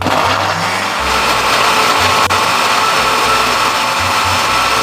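A loud, steady motorized whirring with a low pulsing rumble from a juicer blender grinding chutney ingredients with salt, continuous throughout.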